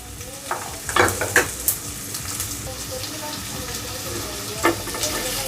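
Chopped onion, garlic and ginger frying and being stirred in a pan for chana masala, with a steady low sizzle and a few sharp scraping stirs near the start and end.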